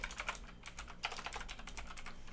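Fingers type a website name on a computer keyboard in quick, irregular clicks, up close and alone with no speech.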